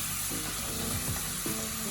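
Beer-laced sauce simmering in a pan, giving a steady close sizzle and bubbling hiss that runs continuously for two seconds with no voices.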